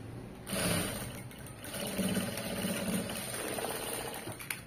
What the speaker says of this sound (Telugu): ఇలా స్టిచ్ చేసుకుంటే సరిపోతుంది